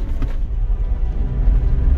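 Low, steady rumbling and grinding from an off-roading vehicle creeping down a steep slope, hill descent assist engaged, with a rough rubbing quality throughout.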